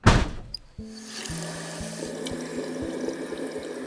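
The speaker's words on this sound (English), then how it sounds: "There, she fills the basin with water" Water running from a tap into a sink basin in an audio drama scene, a splashy gush at first settling into a steady close pour that fills the basin, with no talking.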